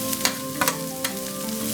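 Curry leaves, dried red chilies and mustard seeds fry in hot oil for a banana flower stir-fry, a steady close sizzle with a few sharp pops and spatters over a short stretch.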